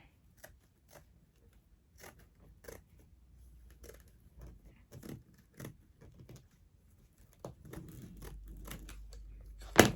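Scissors snip through paper while cutting out rose petal pieces, a series of short, faint crisp cuts spaced irregularly, with soft rustling of handled paper and a louder snip at the end.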